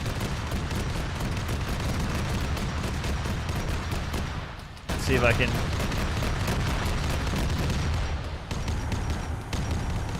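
Sustained battlefield noise from an Arma 3 Warhammer 40K-themed game mod, with dense rolling gunfire and cannon blasts that stay loud throughout, briefly cutting out midway, and someone talking over the din.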